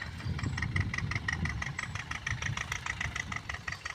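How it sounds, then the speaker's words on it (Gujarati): Rhythmic, pulsing rumble of a tractor engine running steadily nearby in a field being prepared for cumin sowing, with regular knocking beats throughout. "આ છે આપણું ખેતર, જેમાં અત્યારે ટ્રેક્ટર ચાલુ છે"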